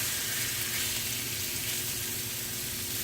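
Shrimp sizzle steadily in melted butter in a pan, a continuous close frying crackle with no talking.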